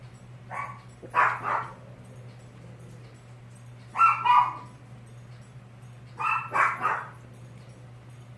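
Dogs bark in three short clusters of two or three barks each, spaced apart over a steady low hum, moderately near and with no talking.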